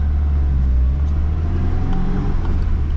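A 1973 VAZ 2102 car setting off in first gear, heard from inside as a loud, close, low engine rumble that holds fairly steady for a few seconds.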